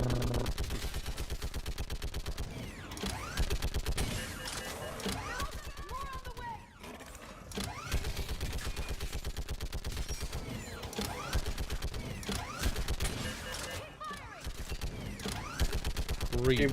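Mass Effect 3 turret section, with sustained rapid turret gunfire in long rattling bursts and mechanical clanks, loud and continuous, while voices talk throughout.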